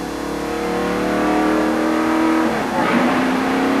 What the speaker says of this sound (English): There he just dumped it into high gear.